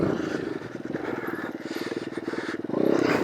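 A Honda CR80 two-stroke dirt bike converted with stiffer springs runs nearby at Lake El Reno, its engine giving a steady buzzing pulse that swells in the last half-second.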